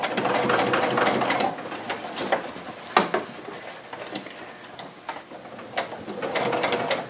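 Sewing machine stitching around the edge of a Christmas gift tote, a steady close mechanical whir with rhythmic needle clatter that slows and restarts a few times, no talking.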